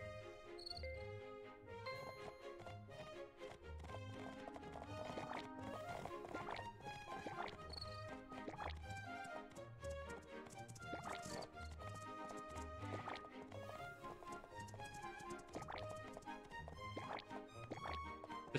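Rented horse galloping in the video game My Time at Portia, a steady, rhythmic run of hoofbeats under bright game music, held at an even level for the whole stretch.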